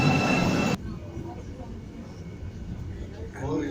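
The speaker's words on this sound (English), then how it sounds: "getting on the metro, going for one stop, just one stop" Underground metro train ride in a tunnel, a loud burst of rumbling rail noise at the start that drops to a steady low roar of carriage and wheels, with a few faint voices toward the end.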